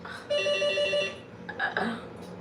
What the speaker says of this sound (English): What the hell's ringing the bell at this time?